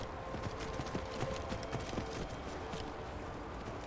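Horse hooves clip-clopping in Skyrim, a steady walking rhythm of soft, fairly quiet hoof falls under a low game ambience, with no voices.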